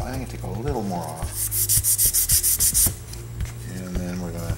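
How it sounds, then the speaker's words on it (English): Rapid rhythmic rasping strokes of sandpaper rubbing across wood, about a dozen quick passes, with a voice speaking before and after. "you want to do a little flat sanding"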